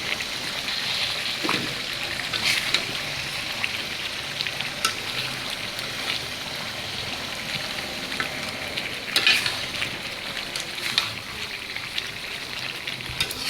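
Roast sizzles in a frying pan while being stirred, a dense, even hiss of frying with intermittent scraping and clinks of the spatula, close and continuous.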